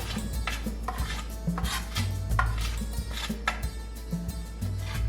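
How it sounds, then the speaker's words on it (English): A spoon clinks against a bowl as turmeric, pepper and chilli spice powders are measured in for a fish marinade, giving repeated light metallic taps and scrapes throughout with no talking. "So for marination, I'll just put all the spice powders into a bowl."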